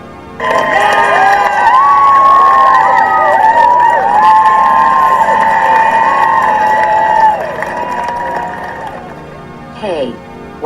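Loud crowd cheering and shouting swells in after a short pause, joined by bright musical or whooping tones, holds for several seconds, then drops off abruptly, leaving quieter noise and a short burst near the end.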